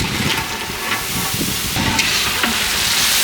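Chicken roast pieces sizzle and fry in spiced oil while being stirred, a steady close hiss with scraping bursts and no talk.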